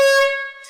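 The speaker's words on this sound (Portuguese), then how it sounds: "A última buzina do ano." A single loud, bright horn blast sounds close up and cuts off sharply after under a second, with no talking.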